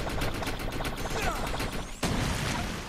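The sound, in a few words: shotgun gunfire in video game Defiance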